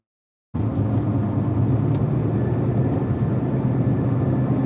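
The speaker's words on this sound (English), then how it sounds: "Jackie just said the truck noise is real loud" A loud truck rumbles nearby at an outdoor Alaska livestream spot, coming in suddenly after a moment of silence and then holding a heavy, steady low roar with no voices.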